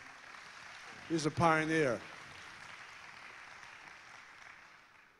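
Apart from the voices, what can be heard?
audience applause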